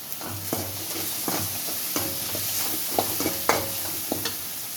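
Curry leaves hitting hot oil for a tempering while making Thanjavur-style lentil ball curry, a steady frying sizzle under repeated stirring and scraping clatter, close and moderately loud, with no talk.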